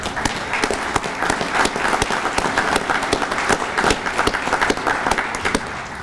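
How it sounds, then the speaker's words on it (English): An audience at an American Legion youth event gives a round of applause, a steady medium-distance patter of many hands with individual claps standing out, continuing evenly throughout. "So I think you guys need a round of applause for yourselves for all the hard work and determination that you guys have done."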